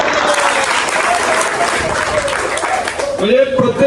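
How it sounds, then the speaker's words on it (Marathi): Loud, dense applause from a gathered audience at a talk, steady throughout with broadband clapping that swells near the end, a voice rising briefly over it. "जोरदार टाळ्या आपण करूया यांच्याकरता"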